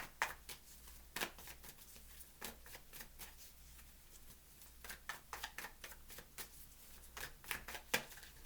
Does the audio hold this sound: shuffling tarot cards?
yes